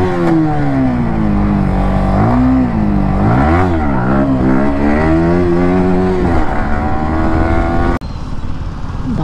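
A modified RS 200 motorcycle revs hard for a wheelie, its engine note climbing and dropping in repeated loud surges close by, with no talking.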